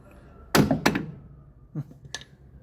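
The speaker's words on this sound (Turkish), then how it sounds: "şöyle cıvatanın tepesinden pimle vurun" Metal pin struck against a bolt head while freeing the axle shaft of a Renault R19 Europa: two loud close thunks in quick succession, then two fainter knocks a moment later, no talk.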